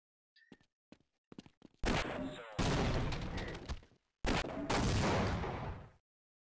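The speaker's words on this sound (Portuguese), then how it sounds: "Mas quem tá atirando em mim, velho?" Bursts of gunfire in Half-Life, in two long loud volleys after a few short sharp shots at the start, with a brief gap between them.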